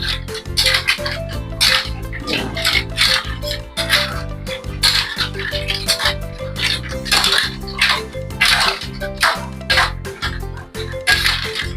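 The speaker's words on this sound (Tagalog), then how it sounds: "Haluin lang natin." Sautéed mussels are stirred in a pot, making repeated metallic clinks and scrapes in an irregular rhythm that sit close and fairly loud over a low background hum.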